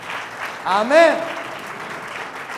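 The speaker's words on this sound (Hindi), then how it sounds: "आप प्रभु का धन्यवाद कर सकते हो ताली बजा" Congregation clapping in praise during a Hindi church sermon: a broad patter of applause runs throughout, with a voice calling out briefly over it in the middle.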